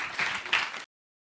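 An audience at a media diversity and inclusiveness event claps for two contributors, a short burst of scattered hands that swells briefly and then cuts off abruptly into silence.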